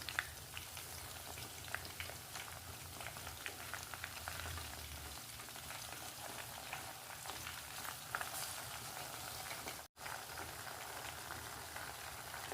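Chicken pieces frying in a pan on a home stove for a Kerala-style chicken fry, a steady dense crackle and sizzle running close and unbroken, with a brief cut near the end.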